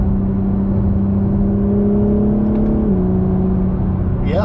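An Acura NSX V6 engine drones loudly at close range with a steady hum, its pitch shifting down partway through.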